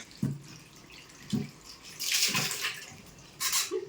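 Running tap water splashes over cucumbers being scrubbed with soap in a home kitchen, with intermittent bursts of water and soft low thumps of the vegetables being handled, fairly close and without talk.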